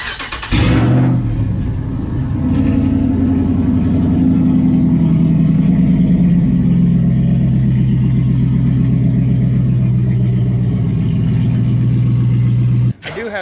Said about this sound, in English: let's do the last start of the Ram with the OEM cam